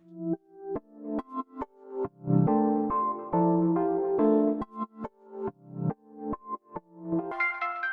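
A synth plays short staccato chords through the Gross Beat plugin's tension effect, its distorted timbre shifting, with several longer sustained notes mid-phrase and brighter chords at the end.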